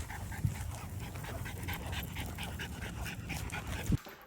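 Dogs pant rapidly and steadily close by after a walk, a continuous breathy rhythm with a couple of short bumps and a faint whimper.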